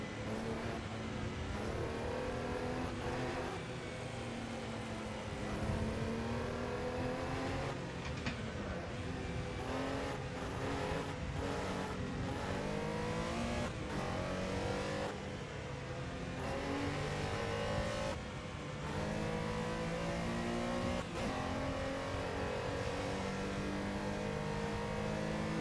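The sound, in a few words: Porsche race car engine and engine braking in a racing video game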